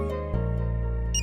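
A telephone ringtone in an Indian action film plays as a steady electronic tone, with a brief higher chirp near the end, close and clear with no talking.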